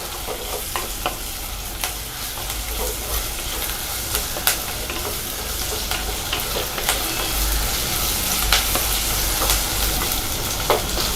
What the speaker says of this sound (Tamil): இப்போ பெரிய வெங்காயம், பூண்டு இதை வந்து நல்லா வதக்கிக்கோங்க.